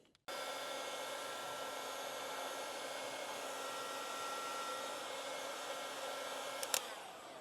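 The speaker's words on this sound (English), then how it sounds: "if you heat that up with a heat gun, that will close around" Heat gun blowing to shrink heat shrink tubing on wiring during a Land Rover Defender L663 Pivi screen retrofit; it switches on abruptly and keeps up a steady airy roar, with a brief click near the end.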